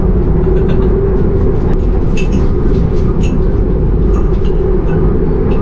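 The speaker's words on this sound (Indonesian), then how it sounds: "aku udah sekitar 7-8 jam berada di dalam kereta kompartemen Suites Class atau kelas terbarunya dari PT Kereta Api Indonesia" Inside a moving KAI Suites Class compartment on an Indonesian train: a loud, constant low rumble of running wheels with faint clicks and rattles throughout, no talk.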